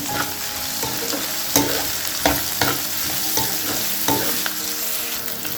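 Onions, green chillies and curry leaves fry and sizzle steadily in a pan, with a spoon stirring and scraping at intervals, producing several clear clanks over the continuous crackle.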